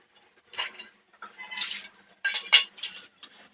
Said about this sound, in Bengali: নিত্য পূজার সেবার জল দেলাইতেছি তারারে